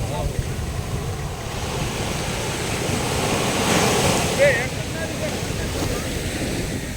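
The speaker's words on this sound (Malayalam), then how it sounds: "ഇവിടുത്തെ തിരയും മണലും ഒന്ന് ശ്രദ്ധിച്ചേ" Sea waves washing onto a white-sand lagoon beach in Lakshadweep, a continuous broad surf roar with wind buffeting the microphone, swelling briefly midway.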